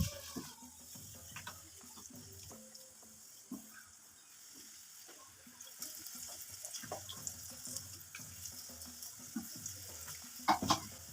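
Potato pakoras fry in hot oil in a home kitchen, a steady soft sizzle broken by scattered clinks and light stirring clatter, with a sharper burst of bubbling near the end.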